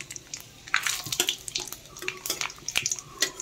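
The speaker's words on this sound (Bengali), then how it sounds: "আমি এখানে একটা তেজপাতা, 2টো শুকনো লঙ্কা ফোড়ন দিচ্ছি। এবার আমি এর মধ্যে দিয়ে দিব 5 ফোড়ন।" Bay leaf, two dried red chillies and panch phoron crackle as they are tempered in hot oil. Sharp pops and ticks come close together in irregular bursts over a low sizzle, with no talking.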